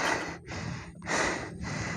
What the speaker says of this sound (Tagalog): hinihingal ako ah